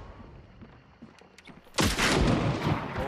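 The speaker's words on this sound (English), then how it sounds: "I shot at him, make him take cover" Gunfire erupts in the Hunt: Showdown video game, a sudden loud burst of overlapping shots after quieter ambience, continuing as dense crackling fire to the end.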